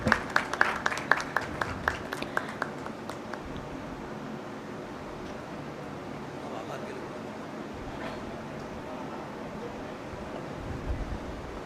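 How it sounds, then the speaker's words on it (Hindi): Seminar audience applause at a builders' association event in Indore, starting with loud distinct claps in the first few seconds, then thinning into a low murmuring room tone. "जोरदार ताली हो जाए एवरीवन।"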